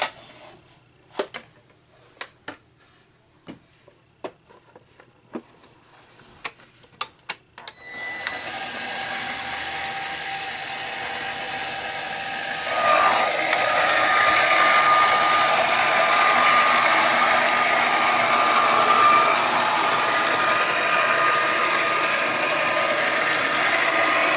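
A die-cutting machine cranks a Heartfelt Creations 3D rose shaping mold through, giving a steady loud mechanical whir and grind that starts after a few scattered clicks and grows louder partway through, with no talk.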